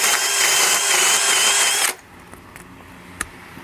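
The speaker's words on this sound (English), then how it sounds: "I have to take that drill, the core drill, and open up that a little bit so that the fitting can fit inside." A core drill whines loudly as it widens a hole so a pipe fitting will slide in, a harsh high grinding roar for about two seconds that abruptly stops, followed by a few faint clicks and light knocks.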